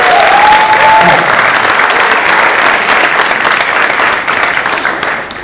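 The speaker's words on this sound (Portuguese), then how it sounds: "palmas para eles" A room of attendees at a sports education lecture in Brazil applauds loudly and steadily, dense overlapping clapping close by that tapers slightly toward the end, with a brief whistle-like tone early on.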